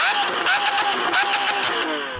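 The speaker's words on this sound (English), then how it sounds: "can you rev up your V12 please?" Lamborghini Aventador with its V12 engine revving in a steady, loud, sustained roar with repeated rising pitch sweeps, close by and continuous throughout with no talk over it.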